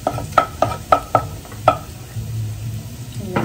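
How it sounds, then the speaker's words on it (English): Garlic frying in a pan at home, a soft sizzle under a quick series of sharp utensil taps and stirring clicks, close by, trailing off into a quieter low hiss. "I'm adding the garlic."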